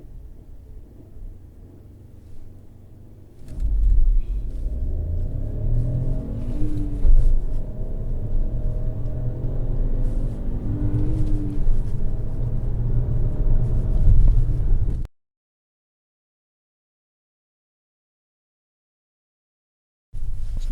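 A Peugeot 5008 with a 1.2 turbo engine, a 1400 kg seven-seater, accelerates hard from 0 to 60 mph, its low engine rumble swelling and rising steadily for about eleven seconds before cutting off abruptly, then resuming briefly at the end.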